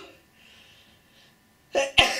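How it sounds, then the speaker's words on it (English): A single loud sneeze bursts out near the end after near silence, preceded by a quick sharp intake of breath. "I'm going to sneeze."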